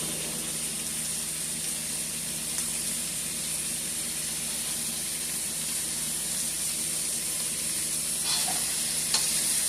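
Turkey meatballs fry in a pan with a steady, close sizzle that runs the whole time without a break. Faint clinks and a brief scrape come near the end.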